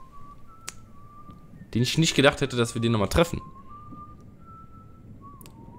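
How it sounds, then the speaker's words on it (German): Someone whistles in the Telltale Game of Thrones video game: a thin, faint, held whistle tone at the start and again at the end, with someone talking loudly in between. "Da pfeift jemand"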